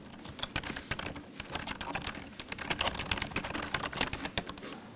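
Fingers type quickly on a Logitech Wave Keys keyboard, a dense, even patter of soft, muted office-style keystrokes, close and continuous with no talking.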